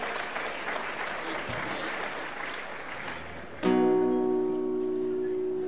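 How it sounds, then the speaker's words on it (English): Audience applause at the Golden Shears 2014 Saturday night show, a dense wash of clapping from a crowd that carries on steadily for several seconds until a sustained musical tone takes over. "Give them a round of applause, everyone."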